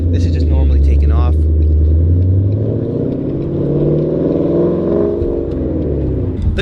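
Ford Mustang GT with a 5.0 V8 and a Roush cat-back exhaust, heard from inside with the window down as a deep, steady rumble that rises and eases slightly while cruising, with brief voice sounds near the start.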